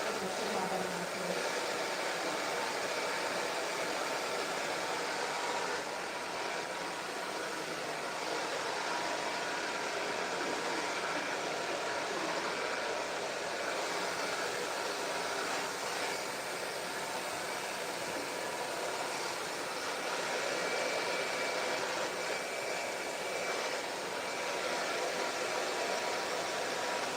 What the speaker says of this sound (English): Especially with hair drying, you want to set those long hairs.